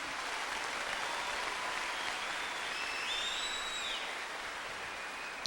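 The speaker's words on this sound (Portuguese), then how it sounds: "vou aplaudir." Faint applause from a church audience at a Catholic family gathering, a soft, even patter of distant clapping, with a few thin high whistling tones drifting over it.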